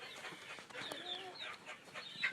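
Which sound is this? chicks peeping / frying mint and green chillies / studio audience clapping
chicks peeping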